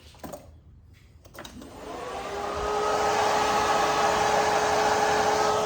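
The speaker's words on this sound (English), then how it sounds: "it is literally blowing out air like a high-speed cooling fan that people have at the tracks" A transmission cooler fan on a twin-turbo TH400-swapped 2020 Shelby GT500 spins up after a few clicks and settles into a loud, steady whirring rush of air with a high whine, close by.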